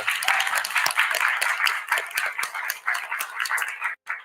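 An audience at a Capitol political event claps in response to a speech line, a lively burst of many hands that ripples unevenly and breaks off abruptly near the end.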